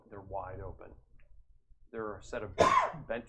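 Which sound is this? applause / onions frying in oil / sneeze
sneeze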